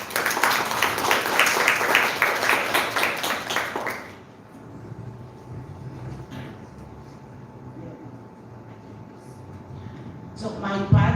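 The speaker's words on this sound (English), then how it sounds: "Applause for her, please." At a conference on using ICTs in English, an audience gives a short round of rhythmic clapping that stops abruptly after a few seconds, followed by quieter room noise and a second brief burst of claps at the end.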